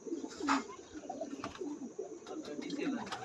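High flying pigeons coo softly in a breeding loft, with low rolling calls and faint chirps against background murmur and occasional voices.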